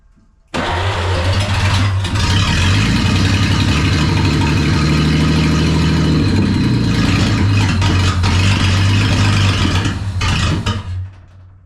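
A 1938 Dodge car engine cranks and catches, then runs loud and steady close by with a deep, rumbling idle for about ten seconds before cutting off, with no talking.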